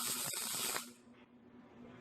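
Welding sizzle on the axle housing of a Corolla AE86 during a GM 7.625 rear-end conversion: a close, steady crackling hiss for under a second, then a sharp drop to a faint lingering hum.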